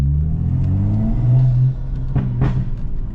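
A 2016 BMW 435i with a catless downpipe and tune revs hard nearby, a loud, deep, steady engine drone whose pitch swells and then drops slightly before settling.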